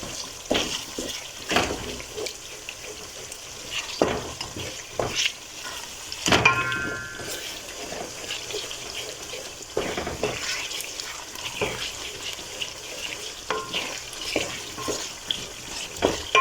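Tomato paste thinned with a little water cooks in a pot for a black bean (njahi) dish, with soft bubbling and sizzling, scattered stirring scrapes and clinks, and a few sharper knocks over a quiet background.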